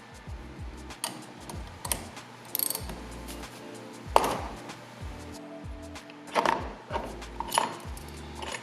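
Steering wheel puller being worked with a ratchet on a Nissan 720, close, irregular mechanical clicks and ratcheting turns with occasional sharper metallic knocks.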